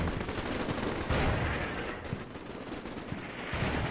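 Continuous gunfire and artillery rumble in a Combat Mission: Black Sea battle, a dense, steady roar of distant shots and impacts with no clear pauses.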